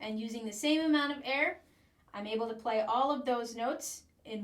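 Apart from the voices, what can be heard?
No everyday noise stands out behind the speech.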